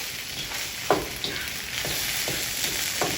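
Rice being stirred into a sizzling vegetable stir fry, a steady hot frying hiss with several soft scraping stir strokes of the spatula, close and moderately loud, no talking.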